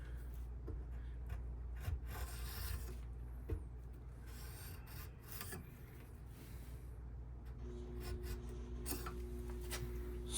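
Hand shaving of a wooden handle for a battle axe with a modern head, repeated thin rasping strokes close by over a low steady background hum.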